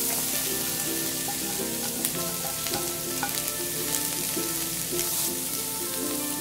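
Two chopped medium onions sauté in butter in a pan, a steady close sizzle and crackle with a few soft clicks running through, and no voice.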